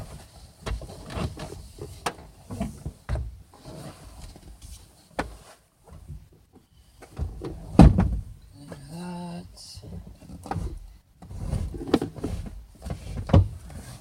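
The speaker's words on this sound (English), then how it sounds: "Open a door." A small Mazda Miata door being opened by hand, with a sharp latch click, scattered clunks and a creaking swing, and a brief heavier thump midway; light talk can be heard between the mechanical sounds.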